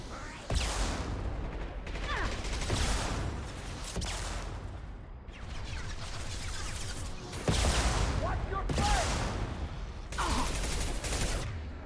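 Gunfire in the video game Mass Effect 2, heavy bursts of shooting in repeated loud volleys separated by short pauses, with a player's voice partly mixed in.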